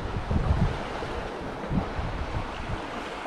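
Wind gusts roar across a rocky shoreline by the sea, with rough, uneven buffeting in the open air and the wash of waves underneath, with no voices.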